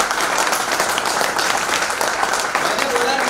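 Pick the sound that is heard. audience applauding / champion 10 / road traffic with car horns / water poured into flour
audience applauding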